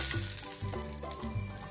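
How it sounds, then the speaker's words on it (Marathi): Oil sizzles on a hot tava before dal dhirde batter goes on, a close, steady crackling hiss with faint scrapes and no talking. "आता मी थोडंसं तेल घालून घेतो त्याच्यावरती"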